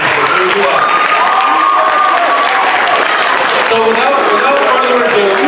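Applause fills a school assembly hall at a high school, a dense, steady wash of clapping from a large student crowd with cheering and voices mixed in throughout.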